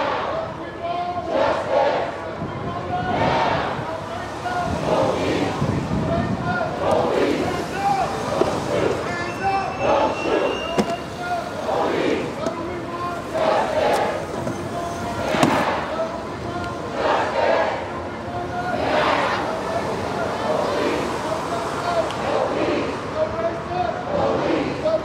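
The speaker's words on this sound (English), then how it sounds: "Crowds are hollering, they can't breathe." A large protest crowd in Newark, New Jersey hollers and chants in loud surging waves, with shouted voices rising and falling across a steady roar.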